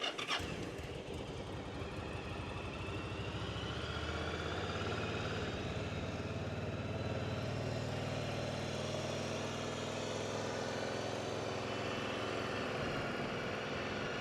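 A 2008 Yamaha Drag Star motorcycle with about 3,000 km on it starts with the choke pulled, then settles into a steady, loud, close idle that runs throughout with no talking.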